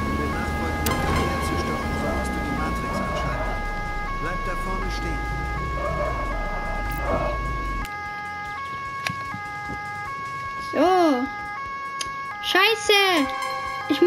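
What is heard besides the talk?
police car siren in the video game Autobahn-Polizei Simulator 2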